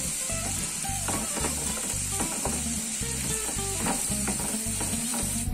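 Chicken seasoning with garlic, salt and wheat flour sizzles and fries steadily in a frying pan while a utensil stirs it, scraping and clicking in a repeating rhythm close by; no talking.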